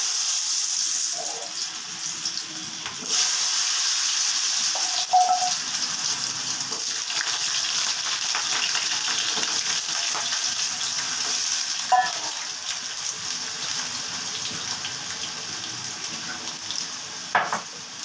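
Diced potatoes fry in hot oil in a wok, a steady loud sizzle running throughout with occasional scrapes and clinks of stirring.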